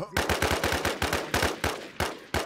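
Rapid bursts of automatic gunfire in the video game Infestation crack loudly in quick succession, with short pauses between volleys.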